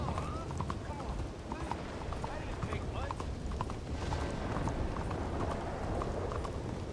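Steady clip-clop of horse hooves trotting on hard ground in the video game Red Dead Redemption 2, close and continuous, with a person talking over it and some mechanical clatter.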